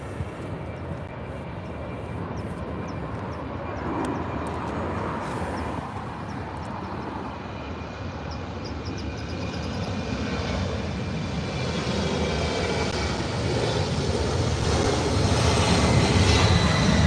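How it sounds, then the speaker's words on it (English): A Qantas Airbus A380 airliner arrives from Melbourne, and its jet roar swells gradually from a moderate distance and grows louder toward the end, with no talking. "4 minutes out, coming in from Melbourne, Australia, A380."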